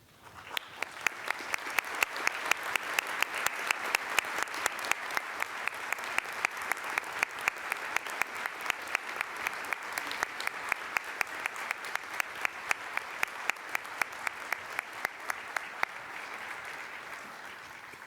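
A crowd applauds at a police academy graduation, with loud, sharp rhythmic unison clapping keeping a steady beat for most of the stretch before it loosens into ordinary applause.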